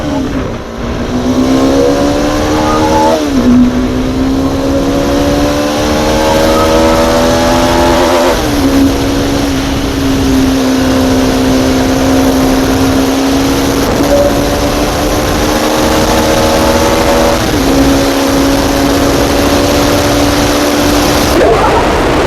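A Bajaj Dominar 400 motorcycle's engine drones loudly and steadily while riding, with heavy wind rush. The pitch climbs repeatedly and drops at each gear change, and no one talks.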